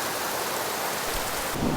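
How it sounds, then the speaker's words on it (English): Steady rain falls outdoors as a dense, even hiss with no talking, heard during a transmission fluid change on a Ford 8N tractor. "And the rain continues."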